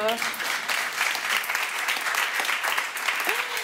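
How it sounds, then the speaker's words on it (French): An audience applauds a comedian at a live comedy show, dense clapping that holds steady and fairly close throughout, with a few voices briefly audible over it. "Oh oui, ça s'applaudit"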